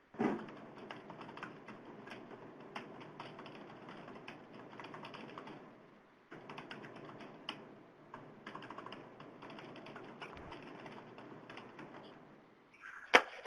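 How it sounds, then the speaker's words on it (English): Several people type on computer keyboards during an online youth leaders' meeting, producing faint, rapid, irregular key clicks that run almost continuously with a short break midway, alone, with no talk. "we've got a couple people typing"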